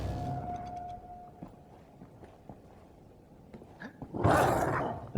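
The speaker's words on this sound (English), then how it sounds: "Oh no, dog." A dog in the first-person shooter Wolfenstein: The New Order growls low and rough over quiet game ambience, with soft footstep-like thumps, building to a louder, harsher snarl near the end.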